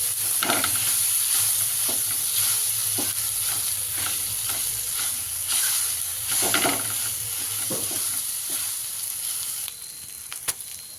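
Tomato and green chilli thecha being stirred and fried in a pan: a steady loud sizzle and hiss, with the spoon scraping and pushing the mixture at uneven intervals and a few sharp clinks near the end.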